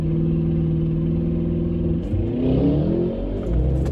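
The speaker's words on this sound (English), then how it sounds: "That car just took off." A nearby car idles with a steady low hum, then about halfway through its engine rises sharply in a hard, loud acceleration as it pulls away, with no voices.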